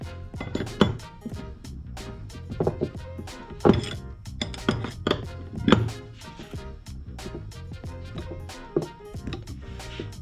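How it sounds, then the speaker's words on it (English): A wrench tightens a jam nut on a heim joint of a Can-Am X3 radius rod, making a string of close metallic clicks and knocks at an irregular pace, with a low musical bed underneath. "Grab your wrench, tighten down your jam nut."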